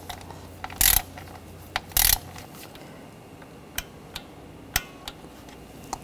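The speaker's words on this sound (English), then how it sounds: "we're going to torque these in sequence to 89 inch-pounds" A torque wrench tightens bolts one after another on a Ford Escape 2.0L engine, giving a short ratcheting burst, a second burst, then several sharp isolated clicks spread out over the quiet shop air.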